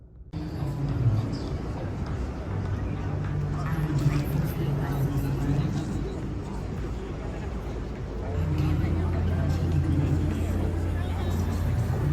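Steady low road rumble from a car driving on the highway, continuous and close, swelling slightly louder near the end, with people talking inside over it.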